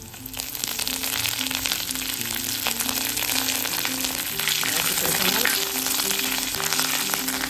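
Ginger, chili and curry leaves fry in hot oil in a pan for Vada Koottu Curry, giving a steady, close crackling sizzle with a brief stir midway.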